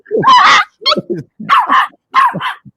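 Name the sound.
dog barking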